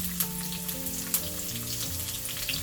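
Onions frying in a pan for egg bread masala, a constant close sizzle with faint stirring scrapes and a couple of sharp clicks against a low background hum.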